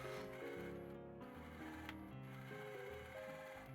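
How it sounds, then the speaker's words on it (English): A sewing machine top-stitches binding down on a dress, running in a steady continuous mechanical hum with a fast needle rhythm, fairly close and alone with no talk. "Finally, I top stitch the binding down."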